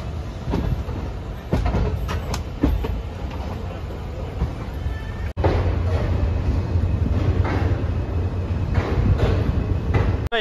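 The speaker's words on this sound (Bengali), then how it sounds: "এইমাত্র আমাদের কাটিহার এক্সপ্রেস হাওড়া জংশনে ঢুকলো।" The Katihar Express pulls into Howrah Junction with a loud, steady rumble of rolling railcars and intermittent clanks and rattles. The sound is close and continuous, with one abrupt jolt midway.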